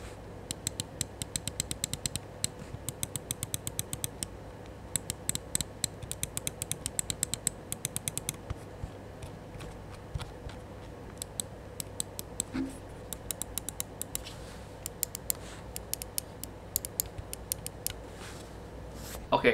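Button clicks on a Vortex GX770 computer mouse, a long series of sharp, dry clicks close up, some in rapid bursts and some single, with pauses between runs over a quiet background hum.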